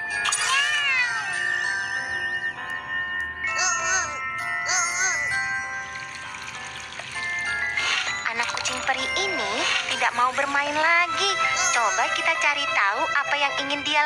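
A cat meows repeatedly over a bright, busy children's-song backing with chimes and music throughout, the meows rising and falling at moderate loudness.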